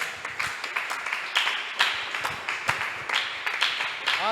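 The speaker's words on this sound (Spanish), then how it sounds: "Y le damos un aplauso al Señor en esta hora." A church congregation claps during a worship service, a fairly quiet patter of separate hand claps in an uneven rhythm, with a brief tonal sound near the end.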